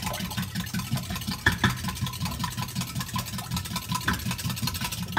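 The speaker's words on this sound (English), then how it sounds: "I'm gonna go ahead and whisk this together" An egg is whisked into soy milk in a bowl for pumpkin cake batter, producing a quick, even rhythm of close strokes that runs steadily without talk.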